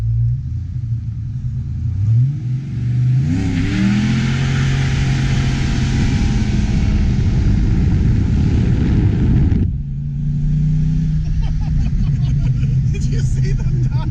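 A 1992 Ford Mustang GT fitted with a catted H pipe accelerates hard, its V8 exhaust rising into a loud, sustained roar, then dropping back to a lower rumble after a gear change, with voices talking over the engine.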